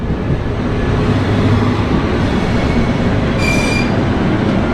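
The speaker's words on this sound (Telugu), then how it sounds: "6th platform లోకి అయితే వస్తుంది మన బండి" Super Fast express train rolling into platform 6 at MGR Chennai Central station, a loud continuous rumble of wheels and carriages with a brief high squeal of wheels on rails near the end, no talking.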